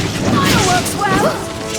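A fireworks fire spell booms in Dragon's Dogma: Dark Arisen, a short loud burst with crackling tail amid battle noise, while pawn voices call out over it.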